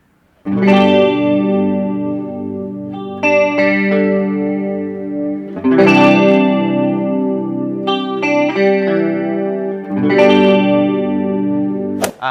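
Electric guitar chords through a guitar amp's clean channel ring out loud with a wavering, shimmering modulation effect, struck in three sustained strums with a few added notes between them.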